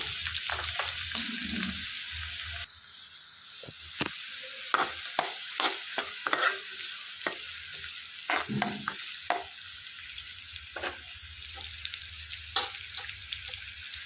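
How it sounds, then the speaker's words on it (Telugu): Thinly sliced onions hiss and crackle in hot oil with fenugreek seeds, a steady close sizzle broken by frequent stirring clicks and scrapes throughout. "సన్నగా తరిగి పెట్టుకున్న ఆనియన్స్ వేసేసుకోవాలి."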